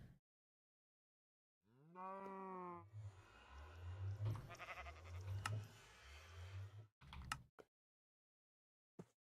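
A video-game cow gives one short, low moo, followed by rumbling, thudding game sounds and a few brief knocks, all fairly quiet.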